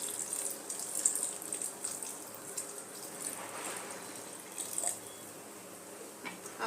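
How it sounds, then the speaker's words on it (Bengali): Water poured into a simmering chana masala curry in a home kitchen, a steady soft trickling stream running throughout with faint splashes, low and fairly quiet. "এর মধ্যে আমি আরেকটু জল দিয়ে দিলাম"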